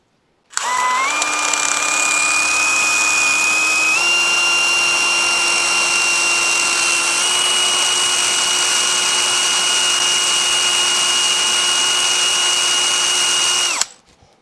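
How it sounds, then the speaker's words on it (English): An electric drill bores into a Yamaha GT80 engine part, one long steady high whine that starts abruptly, rises slightly in pitch early on, then holds evenly for about thirteen seconds before stopping. "We're going to drill it."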